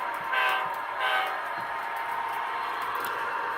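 A couple of short horn toots from an HO-scale Athearn NC DOT model locomotive, bright and reedy, sounding over a steady mechanical hum with no one speaking.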